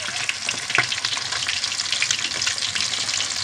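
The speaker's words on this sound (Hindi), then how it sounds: "देखिए ये भी मछली फ्राई हो चुका है, पलट दूंगी।" Fish frying crisp in hot oil, a steady dense sizzle filling the whole stretch with a brief louder crackle near the start, close and continuous with no talking.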